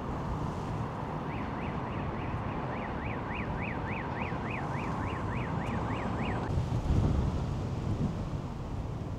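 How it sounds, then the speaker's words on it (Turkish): Strong cold wind blows hard across an open street in Aktau, Kazakhstan, a loud continuous roar buffeting the microphone, while a faint two-tone siren wails briefly in the distance. "Aşırı derecede büyük bir rüzgar var."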